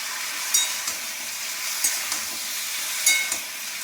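Pumpkin frying in a pan for a fish curry, a steady hiss of oil with a few short clinks and scrapes of stirring, close and continuous, no talk.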